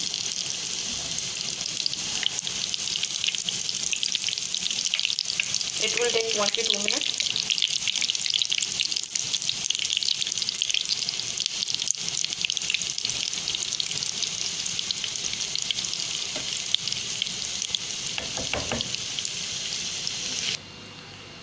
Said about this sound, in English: So now it's frying.